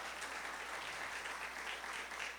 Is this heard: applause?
yes